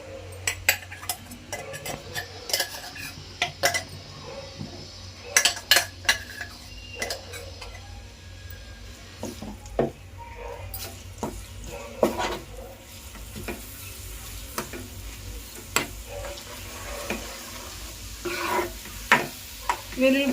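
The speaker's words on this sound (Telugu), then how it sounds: "ఉల్లిపాయ పేస్ట్ చేసుకున్నాం కదండి మిక్సీలో, ముందు అదైతే వెయ్యాలండి నూనెలో." Onion paste fries in peanut oil for a gongura pickle, giving a quiet, continuous sizzle broken by sharp clicks and scrapes as a metal spoon stirs it against the pan.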